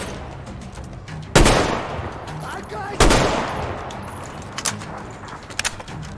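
Heavy single gunshots in Metro Exodus, two loud close blasts about a second and a half apart followed by fainter clicks and shorter pops, over a quiet ambient background.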